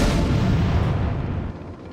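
A video game grenade blast erupts as a loud, broadband boom that fills the clip and slowly decays over about two seconds, with no voices over it.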